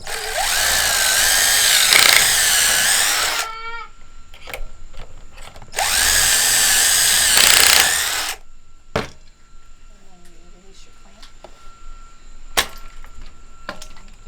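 A power drill bores pocket holes in wood for an 8-foot desk, two loud sustained whirring bursts of a few seconds each, followed by quieter clicks and handling noise.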